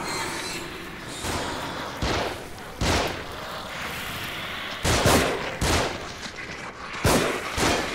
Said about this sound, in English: I totally missed a very easy shot.